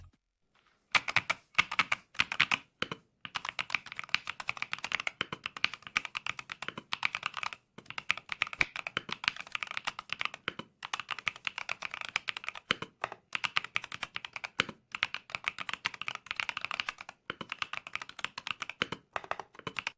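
Rapid, continuous clacking of keys on a mechanical keyboard, close and fairly loud, with brief pauses between bursts of typing.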